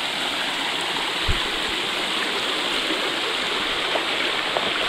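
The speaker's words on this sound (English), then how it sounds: "Got a little mini brook crossing right here" A small mountain brook crossing a hiking trail in New Hampshire, heard as a steady, broad wash of flowing water close by, with no one speaking over it.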